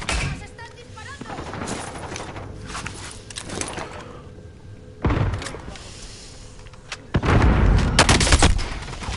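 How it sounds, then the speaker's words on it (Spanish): Gunfire in the video game Warzone cracks out in several loud bursts, with sharp single shots and heavier volleys toward the end, while players shout and talk over it. "¡Nos están disparando!"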